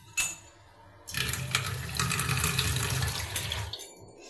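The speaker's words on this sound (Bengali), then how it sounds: "দিয়ে দিলাম পরিমাণ মতো জল।" Water poured from a jug into a pot of cooking dal, a steady splashing stream that runs for about two and a half seconds after a brief knock, then tapers off.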